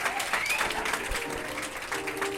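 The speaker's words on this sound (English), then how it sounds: "We're giving a round of applause." A small studio crowd gives a podcast guest a round of applause: steady, fairly soft clapping from several people close by, with faint chatter and a whistle-like squeak underneath.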